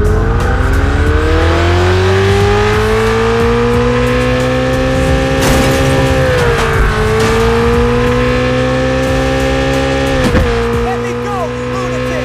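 A car in the video game Free City drives and revs loudly with a steady, droning engine tone that rises and dips, with a squeal of tires and voices heard over it.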